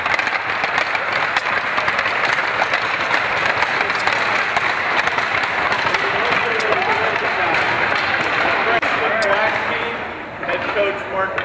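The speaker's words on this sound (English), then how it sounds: "Give them a round of applause." A big arena crowd at a high school hockey senior night claps and cheers in a loud, sustained roar of applause with sharp individual claps on top, easing off slightly near the end.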